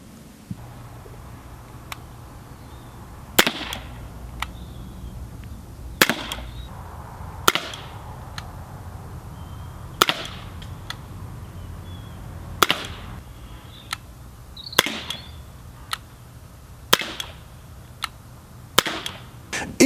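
A Sig Sauer P226 CO2 pistol fires steel BBs in a series of sharp, close pops, about a dozen shots at irregular intervals, some followed by faint metallic pings over a quiet background.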